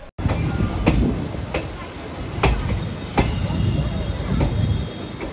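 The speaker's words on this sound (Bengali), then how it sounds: "আমাদের ট্রেন 2 মিনিট আগেই রানাঘাট জংশনে এসে পৌঁছেছে" A passenger train at Ranaghat Junction rumbles loudly and continuously, with periodic sharp clacks of wheels over rail joints and a faint squeal, close by in a busy station.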